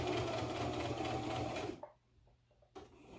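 A sewing machine stitches along one side of a button on a cooling collar, running at a loud, fast, steady buzz, then stopping abruptly and leaving a few faint clicks.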